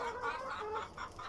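A rooster clucks in quick, soft bursts, fairly close but quiet, with no other sounds around it.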